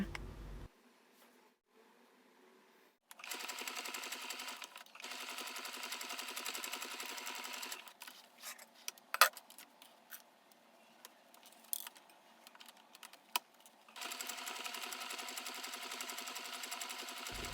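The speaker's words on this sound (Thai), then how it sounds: "จากนั้นเราก็นำไปเย็บด้านข้างนะคะ" A sewing machine stitching the side of a small coin purse made from pha khao ma cloth: bursts of rapid, even mechanical whirring separated by pauses and small clicks and handling noises, close up with no talking.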